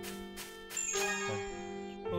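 Bell chimes from the video game Lost Sphear ring out over background music, several bright, struck tones in quick succession that ring on and slowly fade.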